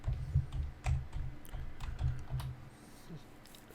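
Keys clatter in a quick run on a computer keyboard as a password is typed, soft and close, then fade to a few light taps.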